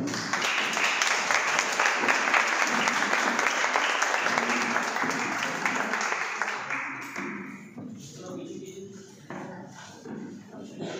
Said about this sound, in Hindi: हम सभी लोग मिलकर अपने सीट से खड़े होकर के पेरेंट्स के लिए जोरदार तालियां चाहूँगा